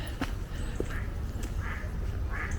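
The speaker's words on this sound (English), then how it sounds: "you can hear all the ducks" Ducks on a small lake quack in short bursts, spread across a steady outdoor background with a low murmur underneath, moderately distant and fairly faint.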